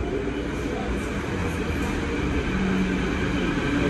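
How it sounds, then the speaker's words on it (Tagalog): A metro train in Vancouver arriving at a station, a steady loud rumble of wheels and motors filling the whole stretch at close range, with faint voices in the background. "Nandito na po ang ano, MRT."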